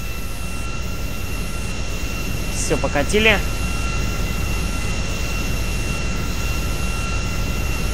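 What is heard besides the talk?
airplane taxiing to the runway in video game GTA 5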